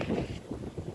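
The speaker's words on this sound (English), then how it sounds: "That gust was bad." A strong gust in a snowy blizzard buffets the microphone in heavy rushing bursts, loudest at the start and then surging again, close and rough with no speech.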